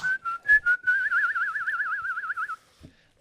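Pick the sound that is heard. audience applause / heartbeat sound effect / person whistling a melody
person whistling a melody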